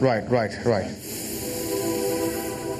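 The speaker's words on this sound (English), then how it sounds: "work begins on spraying the final wasp-inspired colours over the bodywork" A steady broadband hiss of a spray gun painting a car body, continuous after brief talk at the start.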